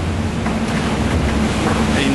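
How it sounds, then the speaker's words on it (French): A solo round-the-world racing sailboat crosses a rough, heavy sea in about 29 knots of wind. Continuous loud rushing water and buffeting wind noise dominate at close range. A faint voice may sit low in the mix. "Là en ce moment j'ai encore une mer assez formée"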